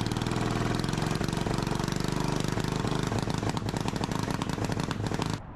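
A Yanmar clone 186F 418cc diesel engine runs untuned with a loud, fast, rough knocking clatter and a steady rhythmic beat, close up, then cuts off at the end.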